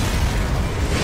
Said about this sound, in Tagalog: bigla na lang sumabog ang talim nito